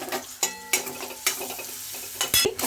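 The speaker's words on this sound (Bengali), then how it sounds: "এইটিকে এবার ভালো করে ভেজে নেব।" Cumin, ginger and garlic fry in a wok, soft sizzling broken by sharp scrapes and clacks of a spoon stirring against the metal.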